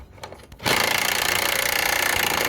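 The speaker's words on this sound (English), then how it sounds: "What we're going to do now is we're going to get the gun and whiz them off." An impact gun spins trailing arm bolts off the rear of a 2009 Ford Mondeo, starting after a brief quiet moment with a loud, continuous close-up rattling buzz that holds steady to the end.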